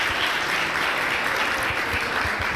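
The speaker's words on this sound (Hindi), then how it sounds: "जोरदार तालियां होनी चाहिए यार इस टीम के लिए यार" Crowd at a team's first-year celebration giving dense, sustained applause, a steady wash of clapping at moderate level with no pauses.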